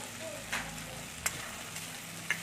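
Chopped tomato dropping into hot oil in a pan for an egg curry, giving a short sizzling fry with a few brief crackling bursts and stirring clatters, close and moderately quiet.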